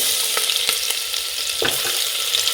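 Mustard seeds and ginger-garlic paste fry in a small spoonful of hot oil, giving a steady bright sizzle with a few sharp pops and crackles over a brief stretch, close and fairly loud, with no talking.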